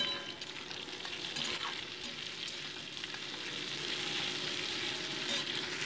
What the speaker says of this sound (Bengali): এটাকেও মোটামুটি আমি 2 মিনিট ভেজে নিলাম